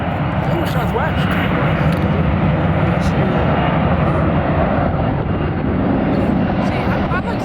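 A Southwest Airlines jet airplane at Atlanta airport gives a loud, continuous broadband engine roar that holds steady throughout, with people chatting over it.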